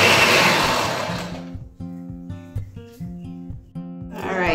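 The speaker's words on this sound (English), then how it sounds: "rather than run my blender for too long, yeah, and burn the motor" Electric blender grinding cornmeal, a loud whirring burst at the start that cuts off after about a second, followed by quieter intermittent tonal pulses and another rising whir at the end.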